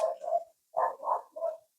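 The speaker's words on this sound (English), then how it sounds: "Can you hear my dog?" A small dog gives three or four short yapping barks in two quick bursts, close by and moderately loud, with silence between them.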